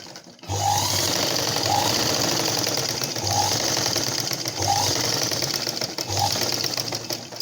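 A sewing machine stitches a folded blouse hem in close, loud bursts, each run of rapid mechanical chatter separated by brief pauses, with a steady motor hum throughout.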